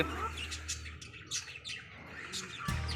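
Caged fantail pigeons and other pet birds kept in a small backyard space give repeated short chirps and squawks, fairly close, with no talking.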